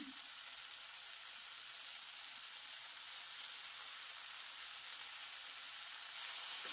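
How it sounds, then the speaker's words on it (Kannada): Tomato, cumin and coriander leaves frying for radish chutney give a steady, dense sizzle that holds evenly throughout, close and with no talk over it. "ಇದನ್ನ ಸ್ವಲ್ಪ ಹುರ್ಕೋಬೇಕು ನೋಡಿ ಈ ರೀತಿ ಹುರ್ಕೊಂಡಾಗಿದೆ"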